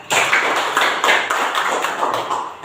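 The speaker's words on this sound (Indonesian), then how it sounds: "tepuk tangan untuk dia" Lively, close applause from a group at an Indonesian church gathering, greeting Daniel Jordan after he introduces himself. The hand claps are dense and loud and stay steady throughout, with no talk over them.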